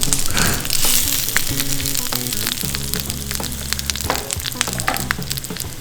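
Haddock sizzles loudly in a hot pan, a constant crackling hiss with occasional sharper pops and spatters, close and unbroken.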